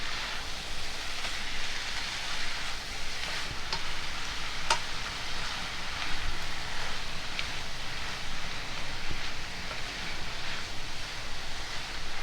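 Cabbage noodles sizzling steadily in a hot frying pan while being stirred, an even hiss with occasional scraping clinks of a spoon, close and continuous without talk.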